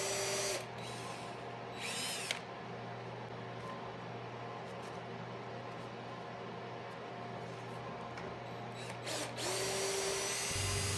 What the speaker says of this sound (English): until I can drill the holes and put the screws